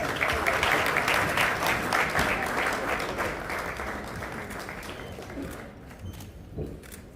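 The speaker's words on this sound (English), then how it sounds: "Please, a round of applause." An audience applauds loudly at a grand finale event, the clapping gradually thinning out and fading.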